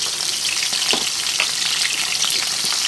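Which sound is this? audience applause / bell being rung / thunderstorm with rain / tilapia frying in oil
tilapia frying in oil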